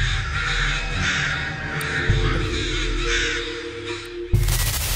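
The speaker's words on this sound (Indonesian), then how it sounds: "korban akan mendengar suara gagak secara berturut-turut dalam 3 hari" A crow caws repeatedly in a steady series of harsh calls, fairly close, over a constant low background hum, ending with a sudden burst of noise.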